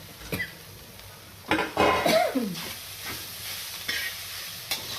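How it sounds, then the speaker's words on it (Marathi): Boiled, mashed potato drops into a pan of salted, frying spices and is stirred in, giving a gentle sizzle with several scraping, clattering strokes of a utensil against the pan. "आता याच्यात आपण उकडलेला स्मॅश केलेला बटाटा घालणार आहोत."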